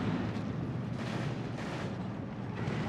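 Vehicle weapon fire in the World War II strategy game Steel Division 2, heard as a dense, continuous rumble of heavy booms and blasts that stays loud throughout with no talking.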